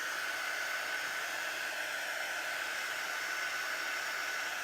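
Heat tool drying a Chalk Couture chalk transfer, a steady close airy blowing hiss that holds unchanged throughout, with no talking.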